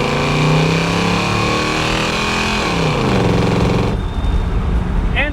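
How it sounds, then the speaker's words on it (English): A 396 V8 in a 1967 Chevrolet Impala with long gearing revs up loudly close by, pitch climbing then dropping as the revs fall away. "it just means you can listen to it rev out for longer"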